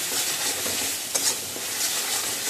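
Masala spices sizzle steadily in hot oil for Bengali potol chingri, a dense continuous frying hiss with a few stirring scrapes, close and fairly loud, no voices.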